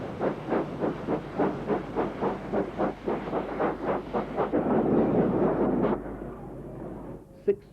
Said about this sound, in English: This is Thompson B1 460 locomotive number 61044, leaving Sheffield Victoria Station.